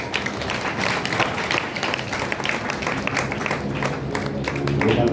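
Church congregation applauding at an anniversary celebration, a steady dense wash of many hands clapping together, fairly close and continuous throughout, swelling slightly toward the end.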